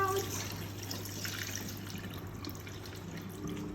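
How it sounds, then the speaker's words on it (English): Rinse water is poured out of a pot of washed rice, a steady trickling and splashing of liquid that stays fairly soft and continuous throughout. "we will pour the water out"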